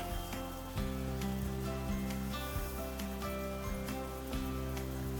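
Onion and minced garlic stew in a cast iron pot for deer chili, giving a steady, soft sizzling hiss beneath louder background music throughout.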